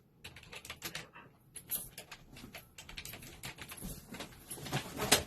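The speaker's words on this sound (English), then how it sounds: "I can't see what I'm typing" Quick, steady typing on a computer keyboard, with close, light key clicks in an irregular run and no talking.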